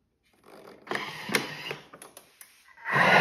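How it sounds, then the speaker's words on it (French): A Thermomix blending almond paste flavoured with orange blossom water at speed 6 gives a mechanical whirring with irregular clicks and knocks that swells sharply louder near the end. "je vais mixer 10 secondes, vitesse 6"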